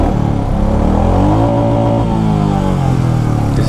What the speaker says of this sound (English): Let me hear the exhaust note.